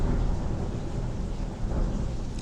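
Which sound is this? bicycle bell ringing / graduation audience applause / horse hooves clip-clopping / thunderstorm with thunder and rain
thunderstorm with thunder and rain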